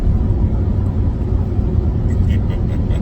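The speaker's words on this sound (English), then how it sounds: "That truck sounds like..." A truck drives past close by, giving a loud, steady low engine rumble that holds throughout with little change.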